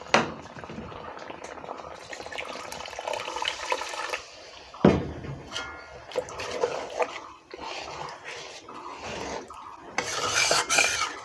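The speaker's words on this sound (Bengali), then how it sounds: "এই যে জল দিলুম ঢালিয়া" Water is poured into a frying pan of fried flattened rice (chira), a few hissing, splashing bursts with clinks of a pot and utensil stirring in between, fairly quiet and close, with no talking.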